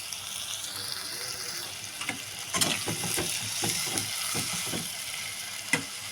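Sliced onions and three chopped tomatoes softening in a pan give a steady low sizzle, with several light scraping stir strokes clustered near the middle and one sharper clank toward the end.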